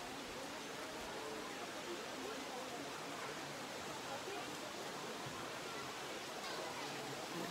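Steady broadband rush of waterfalls in a forested canyon at Puning Hot Springs, Subic Bay, Philippines, a continuous distant roar with no breaks.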